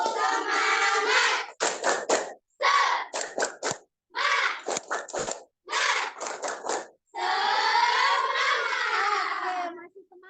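A class of students doing a rhythmic Indonesian spirit clap, "tepuk semangat", with chanted syllables and bursts of sharp patterned claps in quick groups, pausing between phrases and ending in a longer sustained cheer.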